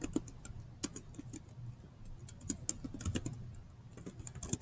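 Typing on a computer keyboard while naming a new social media design project in Canva, a run of quick, light key clicks in irregular bursts, fairly close and quiet, with no talking.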